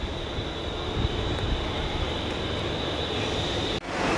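A Mumbai local train runs steadily with a loud, constant rumble and rattle of wheels on track, a brief dip near the end before the roar resumes.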